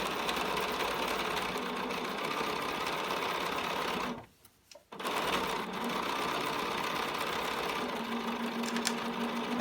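A sewing machine with dual feet runs a straight top stitch through denim, a fast, even mechanical whir that stops briefly midway and then resumes at the same steady pace.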